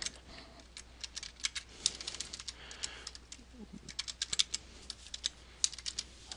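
Typing on a computer keyboard while entering words into a Prezi presentation, irregular clusters of crisp keystroke clicks, close and clear, with faint background murmur and a brief low voice-like sound.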